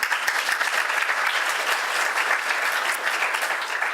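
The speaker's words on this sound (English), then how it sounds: "So can we just have a round of applause for that?" A room full of people applauds steadily and fairly loudly for about four seconds after a thank-you at a tech talk, dense clapping with no voices on top.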